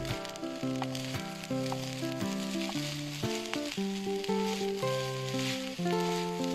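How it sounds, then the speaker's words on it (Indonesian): Spices and rice sizzle steadily in a hot pan under melodic background music. "Di sini sudah ada perbumbuan yang saya goreng, kemudian lanjut saya masukkan nasinya."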